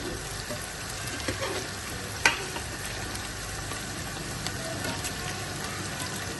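Well-tenderized beef tipped into a pot to fry for beef pulao, with a steady low sizzle and one sharp clatter partway through, no talking.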